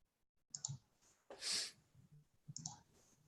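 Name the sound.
computer mouse click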